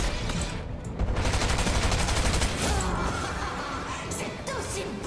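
Video game gunfire with infinite ammo: dense, continuous rapid shots and bangs at close range, loud and unbroken over a few seconds.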